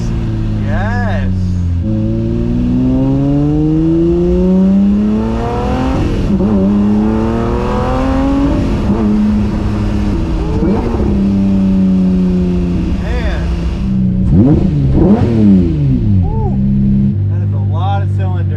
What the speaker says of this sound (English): That is a lot of cylinders firing away back there.